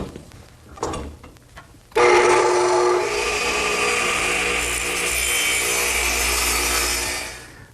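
A saw cuts through redwood pieces for an arbor, with a few light scrapes and taps first, then a loud continuous rasping stroke that runs for several seconds before fading out.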